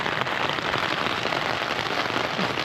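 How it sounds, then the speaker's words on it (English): Steady heavy rain drumming on a tent pitched on a slope on Dartmoor, a dense unbroken patter close to the fabric with no voices. "Waiting for the rain to stop now."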